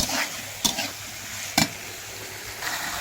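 Taro stolons sizzle steadily in hot oil in a wok with cumin, garlic and onion, a loud continuous fry broken by a few sharp scrapes of stirring.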